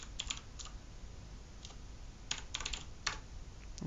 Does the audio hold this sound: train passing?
no